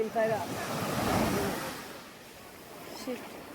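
Sea waves wash in at Maya Bay on Phi Phi Island, with a broad, rushing surge that is loudest early on and then eases into a softer wash. Wind buffets the microphone and brief voices are heard near the start.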